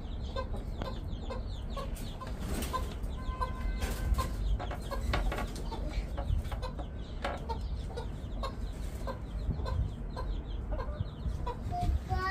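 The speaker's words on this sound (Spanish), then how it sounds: "La gallina quiere entrar" Hens cluck repeatedly nearby in short, irregular bursts, a busy chatter of fowl over a low background rumble.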